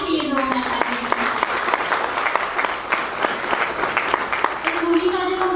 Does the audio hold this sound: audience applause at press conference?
yes